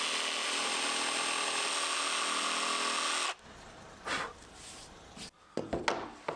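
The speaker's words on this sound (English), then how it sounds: "I cut out that shape using my jigsaw." A jigsaw cuts a scribed shape into a skirting board, buzzing loudly and steadily for about three seconds, then stopping and giving way to quieter knocks and handling of the wood.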